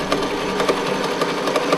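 A sewing machine runs steadily while stitching elastic onto the neckline of a lace-up tank, with brown top thread and blue bobbin thread, giving a fast even whirring with regular mechanical clicks, close and alone.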